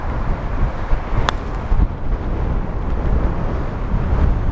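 Loud, steady wind roars and buffets against the microphone on an open golf course, a continuous low rumble with one brief sharp click partway through.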